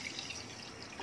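A cup of water poured onto sugar in a pan for jalebi syrup, a soft, faint, brief watery trickle with no talking.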